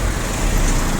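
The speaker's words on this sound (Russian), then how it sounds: "Так, машины у нас здесь ездят." Cars drive past on a nearby road, producing a dense, continuous wash of traffic noise and low engine rumble, steady and fairly loud, with no talking.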